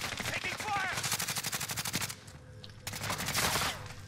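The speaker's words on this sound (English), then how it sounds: "he's shooting at me" Rapid automatic gunfire in Call of Duty: Modern Warfare Warzone, dense bursts rattling close and loud with a short lull midway before another burst.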